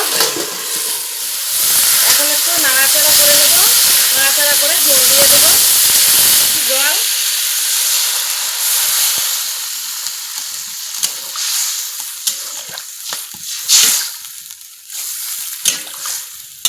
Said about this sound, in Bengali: এখন ঝোলটা ফুটিয়ে নেব